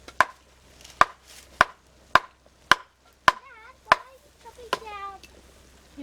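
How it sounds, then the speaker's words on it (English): Sharp knife chops on a board outdoors while cooking on a rocket stove: seven crisp, evenly spaced strikes, close and clear, followed by a few faint high, whiny tones. "He's not, he's just chopping something on it."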